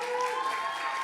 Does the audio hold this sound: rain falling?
no